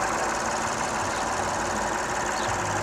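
A 3.5-litre car engine idles with a steady, dense rumble and faint ticking, close and continuous with no voices.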